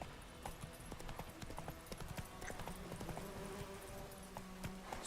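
A horse trots in The Witcher video game, its hooves making steady, rhythmic clip-clops at a low level, with a faint neigh.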